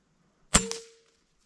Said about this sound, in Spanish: Vamos a hacer unos tiros ya con la mira puesta, a ver qué tan lejos está.